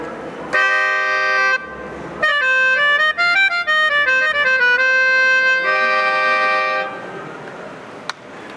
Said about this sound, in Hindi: तो ये थी मेलोडिका।